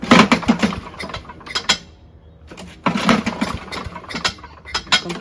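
Rattling mechanical clatter from a Craftsman chipper shredder with an engine loose on its mounts, loud metallic knocking and whirring in bursts with a brief quieter gap midway.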